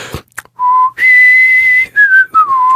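A person whistles a tune, a few clear sustained notes sliding between pitches, close and alone after a brief bit of noise.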